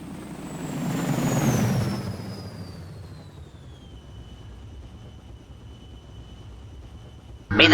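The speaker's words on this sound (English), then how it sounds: "Landing vehicle entering atmosphere." A landing vehicle enters the atmosphere in the video game Ground Control, a loud roaring rush that swells and then fades to a steady low rumble with a thin high whine gliding downward, before a sharp burst at the end.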